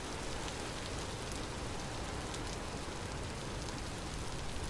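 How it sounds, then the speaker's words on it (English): Steady rain falls in a video game, a dense, even hiss of drops on surfaces that holds constant and close for the whole stretch, with no other sounds breaking through. "The rain in general in this game is really well done. Especially like the noises on rain."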